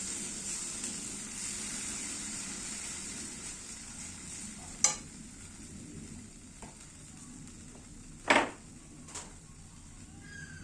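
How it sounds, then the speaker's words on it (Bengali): Poppy seed paste sizzles steadily in hot oil while being stirred for a Bengali bata fish dish, a continuous frying hiss with a couple of sharp utensil knocks against the pan. "পোস্তটাকে গুলিয়ে তেলে দিয়ে দিচ্ছি। ভালো করে তেলের সাথে মিশিয়ে নেব।"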